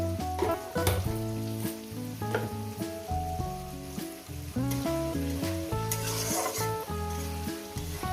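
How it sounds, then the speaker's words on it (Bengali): Potatoes sizzle and fry steadily in a pan as turmeric powder goes in, a continuous hiss running under loud background music throughout. "আলু ভাজতে ভাজতে আমি হলুদের গুঁড়োটা দিয়ে দেবো"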